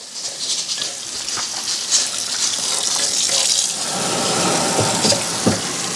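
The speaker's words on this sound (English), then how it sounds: "So I'm going to turn the cold water on" Steady gush of cold tap water running and splashing onto a metal pressure cooker, loud and close, with no voices.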